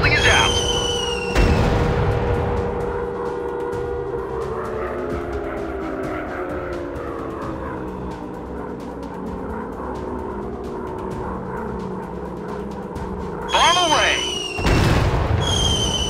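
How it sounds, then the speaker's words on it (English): Bombs dropped on a target building in a World War II warplanes game: a steady droning aircraft engine runs throughout, with loud, sharp blasts near the start and again toward the end. "Dropping bombs! Target building is out!"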